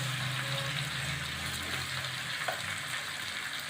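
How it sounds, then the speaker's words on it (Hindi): Water is poured into a pan of capsicum and potato masala. It gives a steady close sizzle and splash with a brief hiss as it hits the hot pan, and no voice is heard. "अब मैं इसमें थोड़ा सा पानी ऐड करूँगी"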